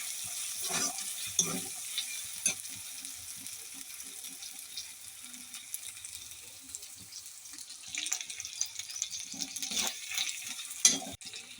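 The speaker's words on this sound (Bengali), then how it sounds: "দিয়ে কিছুক্ষণ মশলাটা পেঁয়াজের সঙ্গে আমি নাড়াচাড়া করে নিয়ে নেবো।" Onions fry with cumin powder in a pan, a soft sizzle under intermittent scrapes and clicks of stirring, fairly quiet and close.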